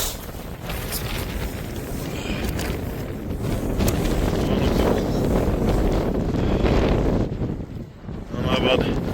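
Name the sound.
strong wind blowing on a windy day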